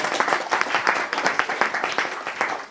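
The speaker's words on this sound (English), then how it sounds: "So give a louder applause now." Seminar audience at a Narasimha Caturdasi festival giving louder applause for actors, a fairly loud room of many people clapping with slightly rhythmic surges, close, without talking.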